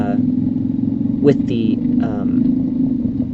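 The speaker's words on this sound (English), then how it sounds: "the bike engine is so loud that you can't really hear me anyway" A motorbike engine runs steadily and loudly while being ridden, a constant droning hum throughout, with brief speech-like bursts above it.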